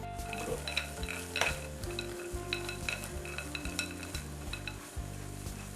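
Groundnuts rattle and swish inside a container as they are shaken with a wet coating mix for a coated peanut snack, in a steady rhythmic scraping close up with no talking.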